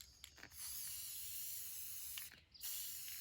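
A spray paint can hissing acrylic paint onto a rock outdoors by the sea, two long steady bursts of close spray separated by brief pauses with small rattling clicks from the nozzle.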